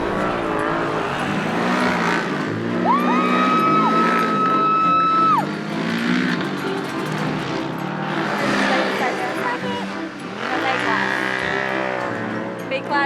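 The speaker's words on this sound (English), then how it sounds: "After a full hour of all-out racing, Dustin crosses the finish line in his Can-Am Maverick Turbo and wins his first cross-country race of the season" A Can-Am Maverick Turbo off-road racer in a cross-country race at Angola Prison, engine droning and revving under a voice, with a rising whine midway and the roar swelling again toward the end.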